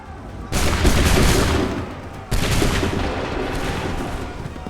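Two massed musket volleys from a line of soldiers in Assassin's Creed III, each a loud, sudden crash of overlapping shots that rumbles away, the second coming about two seconds after the first.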